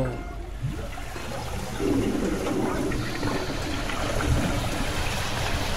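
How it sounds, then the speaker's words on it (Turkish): A video game toilet flushes with a rushing, gurgling swirl of water that swells midway and keeps running, with faint background noise. "Biri sifonu çekti oğlum."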